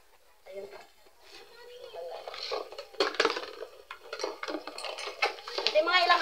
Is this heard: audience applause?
no